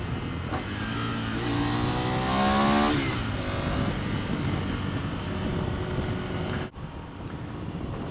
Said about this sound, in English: I love the sound of that L-twin.